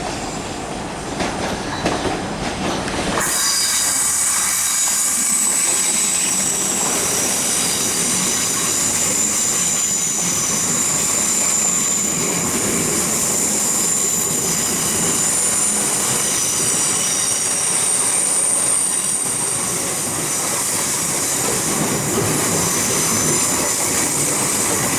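A Class 444 passenger train rushes past close by with a loud, continuous roar and rattling wheels, steady for a long stretch with faint squeals riding on top.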